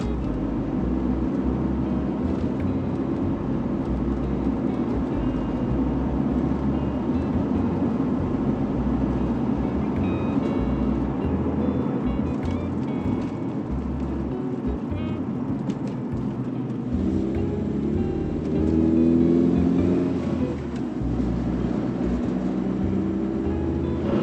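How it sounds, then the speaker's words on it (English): A 1993 Volvo 240 wagon driving down a country road in the early morning: a steady, continuous cabin rumble of engine and road noise, loud and even throughout, swelling slightly near the end. "Thank you so much for joining me on this early morning drive in my 1993 Volvo 240 wagon"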